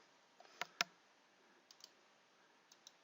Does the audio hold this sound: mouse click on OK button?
yes